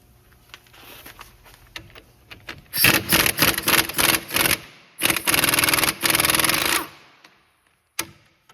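Rapid ratcheting bursts of a wrench or impact tool loosening the 19 mm front brake caliper anchor bolts on a 2007-2014 Ford Edge, close and loud in two runs of a few seconds each, with a short clank near the end.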